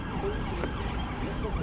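Police car sirens wail steadily outside a hotel, the wavering tones rising and falling under continuous traffic and street noise, with faint voices mixed in.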